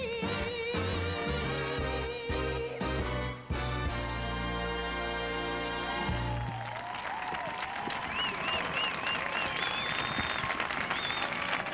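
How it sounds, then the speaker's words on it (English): Ballroom music plays at a 2003 European Championship foxtrot final, then a large arena crowd breaks into sustained applause and cheering for the dancers, which carries on to the end. "Beaming smiles, sustained applause."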